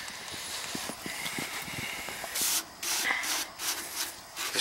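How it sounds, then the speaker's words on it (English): A brush scrubs the coil of a Ruud condensing unit in quick, soft rhythmic strokes close by, followed by a few louder bursts of spraying. "This brush will get the majority of the big stuff off of there."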